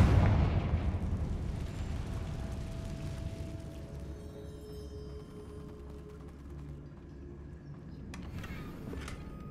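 In Hogwarts Legacy, a Confringo blasting spell detonates with a loud opening boom, then a long rumbling decay under faint tonal game sounds and a few later crackles.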